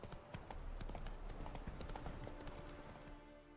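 The horse Roach's hooves clip-clop in a steady, close walking rhythm over several seconds in the video game The Witcher 3, with a faint whinny-like tone underneath.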